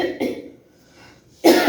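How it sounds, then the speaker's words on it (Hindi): A woman coughs in two bursts, a short one near the start and a louder, harsher one at the end, separated by near silence, close to the listener in a home setting. "देखा सच बोलने वालों को खांसी भी आती है, कितनी खांसी आई है मुझे।"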